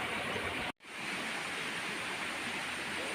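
Water rushes steadily through an irrigation channel in a continuous broadband wash, broken by a brief dropout early on, then flowing on unchanged and fairly close.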